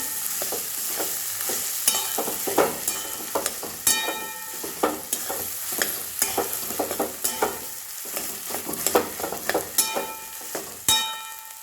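Potato is stirred and mixed in a hot pan, repeated spatula scrapes and knocks in an irregular rhythm over a continuous sizzle, close and fairly loud, with a sharp clack near the end.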